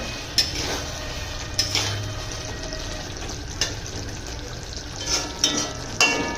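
A spoon stirring dahi bhindi, okra in a yogurt gravy with garam masala powder, around a pan, giving repeated clinks and scrapes over a low simmering hiss, with no talk.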